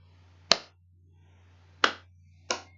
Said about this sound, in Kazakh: Бос түргөздің орнына мен қазір шапалақтаймын.